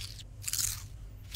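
A couple of crisp crunching bites of food in a video game, close up, brief and dry, with no talking.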